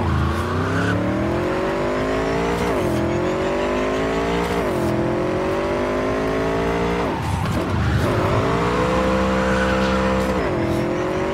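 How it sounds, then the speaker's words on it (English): A motorcycle tears through traffic in the Cyberpunk 2077 video game, its loud engine whining continuously, rising in pitch and then dropping sharply at several gear shifts, with tire noise beneath. "it's still satisfying to tear around in the flow of traffic on the motorcycle in this game"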